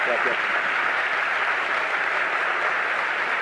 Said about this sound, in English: We should give him one more big round of applause.